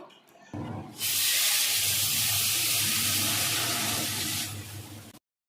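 Spices temper for dal in hot oil, bursting into a loud, steady hiss after a short lead-in. The sizzle holds for about four seconds, then cuts off abruptly.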